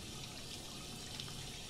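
A soft, steady stream of water runs while clothes are washed in the video game Life is Strange 2, a faint, even rushing sound heard alone for a moment.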